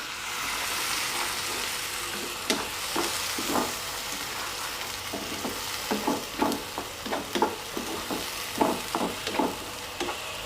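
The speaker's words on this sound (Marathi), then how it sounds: "छान असं कलर येईस्तर भाजून घ्यायचं आहे गॅस असा मी मध्यमच केलेला आहे" Onion for cabbage curry frying in a pan over a medium gas flame, an even crackling sizzle with repeated spatula stirs and scrapes becoming more frequent, no speech.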